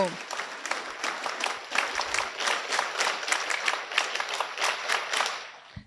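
A room full of school students clapping together, a dense, sustained round of applause with sharp individual claps throughout, close and loud, fading slightly at the end.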